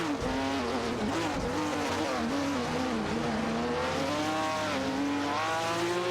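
A De Tomaso Pantera GTS '72 and a Ferrari 365 GTB/4 Daytona race neck and neck in a racing video game, their engines droning loudly and sweeping up and down in pitch as they rev and shift.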